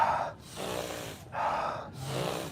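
Deliberate heavy breathing as an exercise: two or three long, loud, forceful breaths taken close up, each a rushing airy inhale or exhale separated by brief pauses, with no speech.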